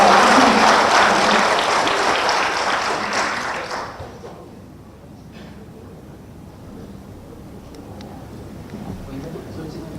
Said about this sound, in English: Big applause for Mr. Peck